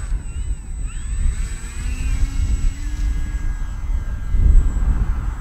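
Arrows Husky RC model airplane flying overhead, its electric motor giving a thin whine that drifts and shifts in pitch as it passes, fairly faint over outdoor background noise.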